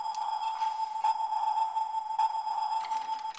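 A Transformers Energon Optimus Prime toy plays its submarine sonar sound effect, a steady electronic ping tone with repeated pulses for several seconds, close and clear with no talking.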